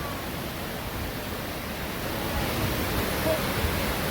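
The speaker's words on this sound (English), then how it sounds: "That thing is just roaring. You see the wind in the trees caused by the waterfall?" A roaring waterfall at a campsite pours out a loud, steady wash of broadband noise that holds without a break, with wind stirring the trees nearby.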